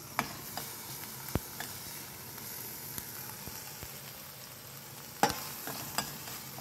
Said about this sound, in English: it's important that we fry this properly so that we don't have the garlic smell